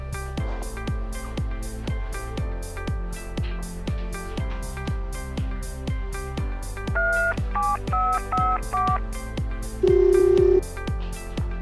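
Telephone sounds in a hospital ward nursing simulation, a rhythmic run of repeated tone pulses with short dial-tone-like beeps partway through and a longer held tone near the end, steady and fairly loud with no talking.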